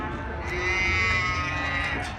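Cattle, cows and bulls, at a busy livestock market, give a drawn-out lowing call that holds steady for about two seconds over a dense, close crowd murmur.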